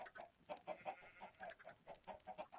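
Chickens in Minecraft, including a baby chick, clucking in rapid overlapping bursts, fairly faint and continuous with no talking.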